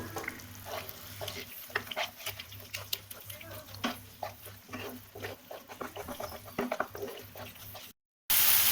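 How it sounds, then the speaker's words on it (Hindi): Fig paste for anjeer badam halwa fries over medium flame while being stirred steadily in a pan, with repeated scraping strokes over a soft sizzle, ending in a brief silent cut. "अब हम इसको तलेंगे और बराबर चलाते रहेंगे ताकि ये लग न जाए।"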